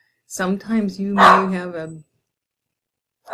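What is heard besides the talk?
dog barking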